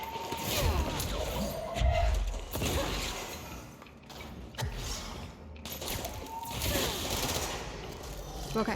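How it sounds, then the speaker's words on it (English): Gunfire in the video game Control, DLC chapter: repeated shots and bursts spread through the stretch over a dense, busy mix of game effects and mechanical clatter, with a voice talking at moments. "I need to use my gun."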